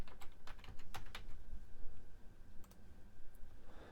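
Quick bursts of keystrokes on a computer keyboard, a few clustered clicks then a pause and a couple more taps, close and fairly quiet, as someone types a search on a Linux Mint desktop.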